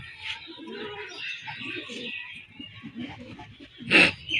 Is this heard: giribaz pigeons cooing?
yes